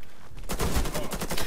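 Rapid burst of gunfire in the Warface shooter game, loud and close, a fast string of shots starting abruptly after a short quiet lead-in.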